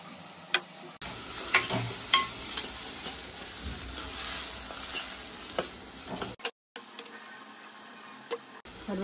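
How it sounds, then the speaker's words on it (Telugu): Spices and curry leaves fry in a hot pan while masala curry is cooked, a steady sizzle with occasional ticks and stirring clatters, then a short drop to quiet before the sizzle resumes. "కొంచెం ఫ్రై అయింది."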